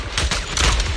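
Gunfire bursts from the Zenless Zone Zero video game, with an enemy sniper taking distant shots; a short run of loud, dense shot reports in quick succession, with no talk over them.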